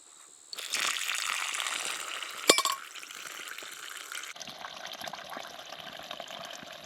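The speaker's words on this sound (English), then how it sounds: "This is my water filter. I am now going to pour the water in here." Water is poured into a water filter at a solo campsite with no shelter, a close, steady splashing flow with a sharp knock partway through, then easing into a quieter trickle.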